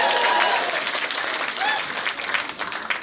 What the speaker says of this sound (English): Round of applause for Bridget